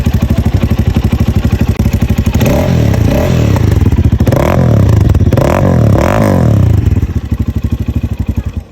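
Motorcycle engine fires up and idles with a rapid, even putter, then revs in several rising and falling bursts before settling back to a loud, close idle.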